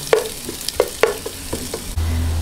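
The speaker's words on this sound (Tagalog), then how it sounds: "gisa-gisahin lang po hanggang mag light brown yung ating bawang" Garlic and ginger sautéing toward light brown in a pan, a few sharp spatula scrapes and taps over a sizzle that swells louder near the end, close and without speech.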